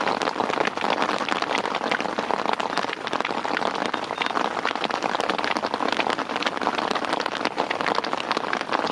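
Hailstones pattering steadily and densely outdoors at a spring carp syndicate lake under heavy cloud, a continuous close-up rattle like heavy rain on surfaces, with no talking.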